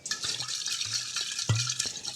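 Water swilled around inside a wine bottle during small-batch wine bottling and poured down a sink, a close, wet sloshing with short gurgles and splashes over about two seconds, with no talking.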